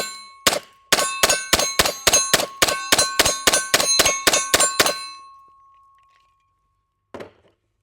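A metal 20-round Staccato pistol magazine clangs with about fifteen bright ringing strikes in a rapid, even rhythm that stops abruptly, followed by a hum that fades and one soft knock after a pause.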